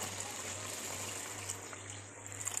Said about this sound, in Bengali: দেখো এটাতে জল কম হয়ে গেছে, আমি আর একটু জল এটাতে অ্যাড করছি।